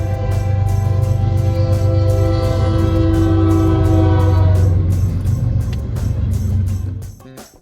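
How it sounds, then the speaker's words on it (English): A loud train rumbles close by while its horn sounds a long sustained blast, then the noise fades as it moves away. "I can hear the train."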